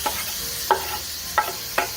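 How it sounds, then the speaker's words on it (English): Vegetables, including onions and celery, saute in butter and a little olive oil, a soft steady sizzle close by, punctuated by three light clacks of a utensil against the pan, with no voices. "let those saute for just a second in that butter and a little bit of olive oil"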